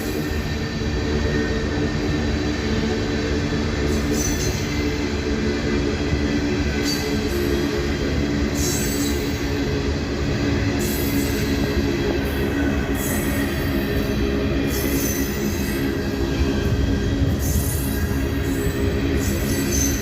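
A train rumbles steadily as it slows a little, with wheels grinding on the rails and intermittent high squeals over a constant, loud, close roar, heard from on board, with no voices.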